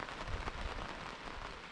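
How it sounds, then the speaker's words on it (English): Rain falls on a sailboat anchored in a cove in the North Channel, a soft, steady patter with scattered drops tapping the surface nearby and no talking. "it's raining in the North Channel."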